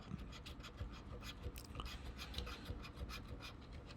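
Quick rasping scratches of a coin on a Speetto lottery scratch card, a steady run of short close strokes with no talking.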